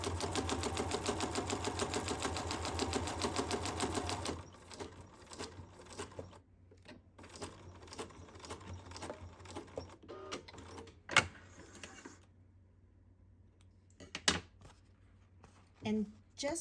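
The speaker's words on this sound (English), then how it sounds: "I'm just going to straight stitch across." A sewing machine runs a steady, rapid straight stitch across a booklet, a loud dense whir for a few seconds that stops, followed by quieter handling clicks and light taps.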